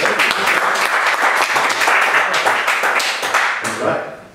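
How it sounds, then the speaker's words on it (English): Audience at a weekly entrepreneur networking meeting clapping for a speaker, loud close applause with sharp individual claps that tapers off at the end, with faint talk mixed in. "a round of applause"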